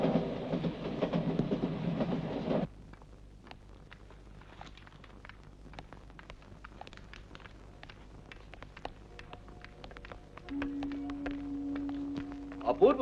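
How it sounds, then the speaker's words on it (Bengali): Steady train rumble and rhythmic track clatter in a film scene on a journey toward Kanpur, carrying on quietly beneath intermittent dialogue, louder at first and again near the end. "ট্রেন লেট যাচ্ছে, কানপুর পৌঁছতে দেরি হবে"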